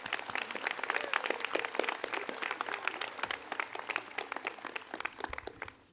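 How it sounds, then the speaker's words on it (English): Graduation-ceremony applause for a commencement speaker, a crisp, sustained crowd clapping with distinct individual claps audible, tapering slightly toward the end. "Could we have one more round of applause for our speaker?"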